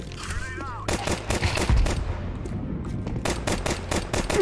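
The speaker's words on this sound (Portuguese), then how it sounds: "Tá atirando sozinho, tá? Eu não tô mexendo no mouse." Counter-Strike 2 gunfire with the weapon firing on its own, rapid bursts of sharp automatic shots in quick clusters, loud and close, with a brief pause before firing resumes.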